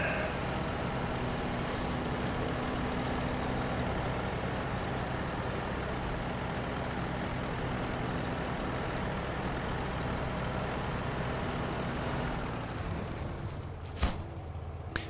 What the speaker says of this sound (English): let's stop the engine here